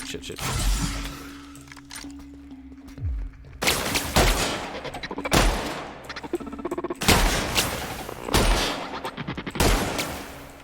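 Shotgun blasts from The Outer Worlds video game ring out in several loud, heavy bursts spaced a second or two apart, mixed with rapid clattering impacts and game effects, with a steady tonal hum underneath.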